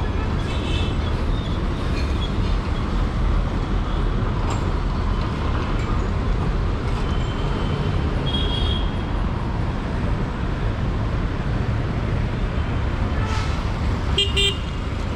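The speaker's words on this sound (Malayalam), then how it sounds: "ബസ്സുകളൊക്കെ പോകുന്നു" Steady roar of a busy early-morning street with buses and other traffic streaming past, continuous and fairly loud, with a few brief higher tones like horns near the end; no talking.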